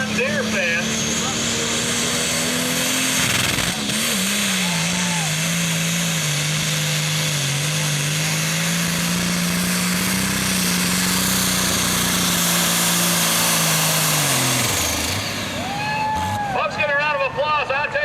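A John Deere 7810 pulling tractor's heavy engine roars at full power at a truck and tractor pull, a deep steady drone that holds and then drops off, with an announcer talking over it.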